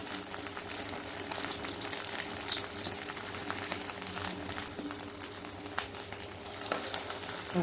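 Bread rolls frying in hot oil on a medium flame give off a steady, dense sizzle with crackling bubbles, close and continuous, with no voices.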